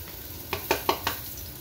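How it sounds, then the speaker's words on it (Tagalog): Garlic sautés in a pan for pancit malabon, with four quick, evenly spaced stirring scrapes over a soft, steady sizzle, heard close up without any talking. "Yan, pa-browning natin muna yung bawang."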